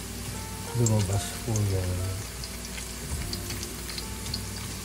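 Ginger sautés in a pan for spicy squid adobo, a steady close sizzle of frying that runs throughout, partly under someone speaking briefly near the start.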